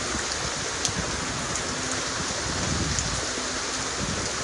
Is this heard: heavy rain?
yes